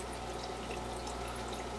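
Water trickles and splashes steadily through a hang-on-back aquarium filter, falling onto biomat padding and polyfiber media in a steady close wash with no talk.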